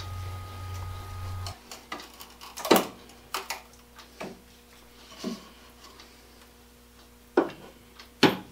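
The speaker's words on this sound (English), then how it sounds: "I picked up the socket and put it in the end of this little 3-inch throw brace, and it runs it right down." A small 3-inch throw hand brace with a socket drives a lag screw into wood, making sparse creaking clicks and ratchety knocks at uneven intervals, close and fairly quiet with no talking.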